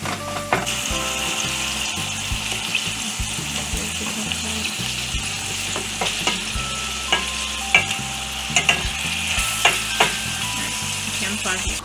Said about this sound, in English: Try to get the beef brown.